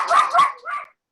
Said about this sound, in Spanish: ¿Tiene perrito?